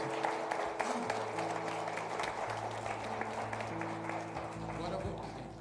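A church congregation applauds in a sustained, even wash of clapping, with sustained keyboard chords and a voice speaking over it.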